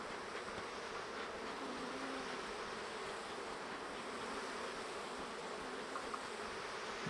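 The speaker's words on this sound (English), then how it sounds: "there's a million bees on top" Honeybees swarm around a hive that is being smoked, a dense, steady buzzing from many insects close by, continuous and fairly soft with no talk.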